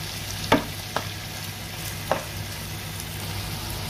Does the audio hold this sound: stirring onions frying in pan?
yes